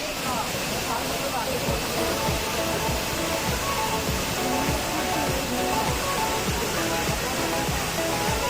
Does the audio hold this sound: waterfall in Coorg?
yes